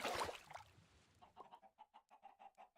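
Chickens in a survival farming video game give a run of quick, evenly spaced clucks, faint and close, after a brief burst of noise at the start.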